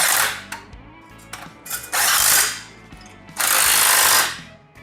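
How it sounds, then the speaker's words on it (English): Impact wrench giving bolts quick, light bursts to snug them up in a garage during a repair: three loud separate rattling hammer bursts with short quiet gaps and small clinks between them. "I'll throw a quick impact on those, lightly. Just to snug them up."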